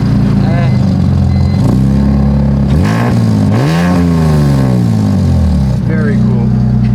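A Ford Mustang engine at a cars and coffee meet, loud and close, revving up and down in several rising and falling sweeps over a rumbling idle, with people talking at points.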